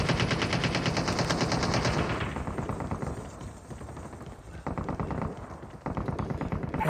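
Rapid automatic gunfire in a Call of Duty battle royale match, loud bursts of steady clattering shots that stop, pause briefly and resume, with almost no talking.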